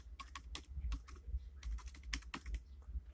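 A password tapped out on a computer keyboard, quick light keystrokes in short bursts, close and quiet.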